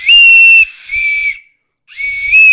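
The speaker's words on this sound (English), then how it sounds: "A bosun's whistle." A bosun's whistle gives loud, piercing shrill notes: a long blast, a lower tone, a brief silence, then another blast, heard up close with nothing else.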